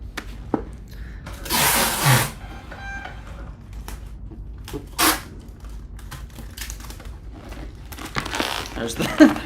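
Packing tape being pulled and pressed onto a shipping envelope holding shoes: several loud bursts of tape ripping and plastic crinkling up close, mixed with taps and handling noise, with some talk nearby.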